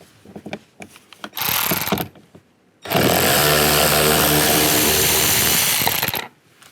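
Ratchet with a T20 socket backing out two screws behind a 2010-2016 Buick LaCrosse side mirror cover: a short burst of rapid clicking, then a longer sustained loud spell of harsh ratcheting up close, with no talk.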